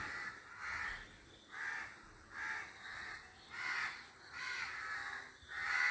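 Crows caw repeatedly outdoors, harsh calls coming in a steady rhythm about every second, fairly close and clear with no talking.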